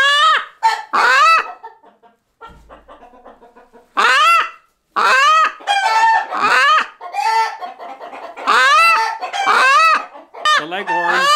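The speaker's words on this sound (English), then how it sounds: "This is one of the female leghorns, guys. Hen." Leghorn hens on a farm cluck and call close by in a run of sharp, varied squawks and bursts with brief quiet spells between them, and no one speaks.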